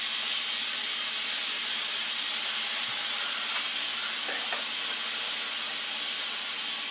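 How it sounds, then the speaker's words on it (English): Steam hisses loudly and steadily from an Instant Pot that has just finished pressure-cooking ribs. The hiss is continuous and unbroken, with a couple of faint clicks underneath. "We're going to go ahead and let the rest of the steam escape."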